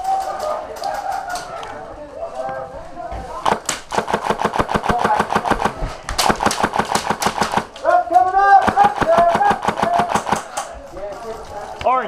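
Airsoft guns fire during an outdoor skirmish in rapid, loud bursts of sharp cracks, some long and automatic, others shorter, mixed with players shouting over the gunfire.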